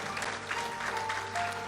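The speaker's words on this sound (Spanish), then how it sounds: "Dale fuerte ese aplauso al Señor" A church congregation applauds in a brief, even burst of clapping, moderately quiet with a faint tonal hum running underneath.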